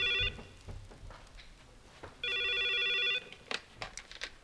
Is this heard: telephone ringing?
yes